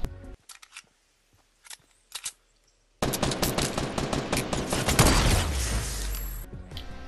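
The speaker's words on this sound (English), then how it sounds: "But I'm going to replay that shot right real quick." A sniper shot replayed in Fortnite Battle Royale: sparse clicks and taps, then a sudden burst of dense game gunfire and action effects building to a heavy booming rumble, loud and close.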